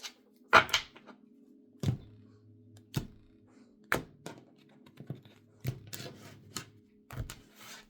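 Tarot cards being shuffled by hand, a series of soft papery thunks and riffles spaced about a second apart at close range, with no talking.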